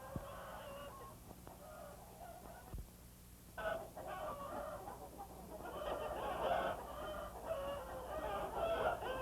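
Hens cluck and a rooster crows inside a large commercial hen house of about eight thousand laying hens, a steady murmuring flock with overlapping calls that grows busier toward the end, heard without talk.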